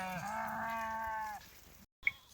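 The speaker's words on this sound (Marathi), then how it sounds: "मग मेंढ्या इथं बिराडा पशीच चारत्या" A single sheep gives one clear, drawn-out bleat close by while grazing with the flock outdoors, followed by quiet background and a brief faint click.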